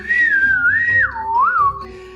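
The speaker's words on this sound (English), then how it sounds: "practicing the unique one-finger whistling system of silbogomero" A single loud, sliding whistle swoops up and down in pitch, made with one finger in the Silbo Gomero whistling style, close and alone.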